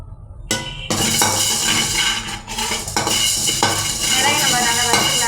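Black peppercorns dry roasting in a pan rattle and clink loudly against the metal as they are stirred, making a dense, continuous scraping clatter that starts suddenly after a short quiet moment.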